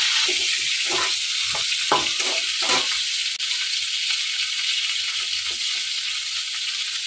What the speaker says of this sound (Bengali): তো আমি লবণ দিয়ে ফুলকপিটা ভেজে নিয়েছি